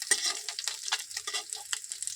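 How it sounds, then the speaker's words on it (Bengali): Fish frying in hot oil in a home kitchen pan, a crisp steady sizzle with irregular crackling pops and occasional stirring scrapes, close and alone without talk. "দেখুন আমার মাছটা ভাজা হয়ে গেছে, বেশ সুন্দর করে ভেজে নিয়েছি।"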